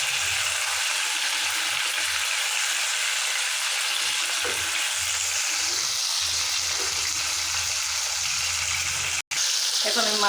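Boal fish frying lightly in a pan gives a continuous hissing sizzle for about ten seconds, with low thumps of handling underneath and a brief dropout near the end.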